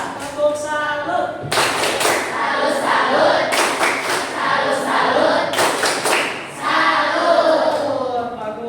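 A classroom of students performs a rhythmic clapping routine, the 'tepuk salut' cheer, in several sharp patterned bursts of group claps and thumps, with a teacher's voice and students' chanting in between.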